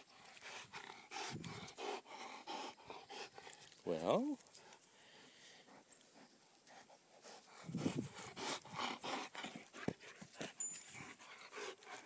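A dog pants in quick rhythmic breaths, fairly close, with a brief whine or vocal sound partway through, while a person talks intermittently.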